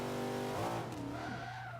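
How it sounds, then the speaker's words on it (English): Tires on a 427 Shelby Cobra skid as the brakes lock up in Forza 5, a close, steady screech laid over the car's loud droning engine, with the pitch shifting midway through a brief slide. "And I locked up the brakes."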